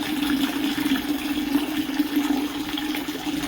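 Water poured steadily into a container while making mead, a continuous close trickling and bubbling as air is driven into the water, with no voices.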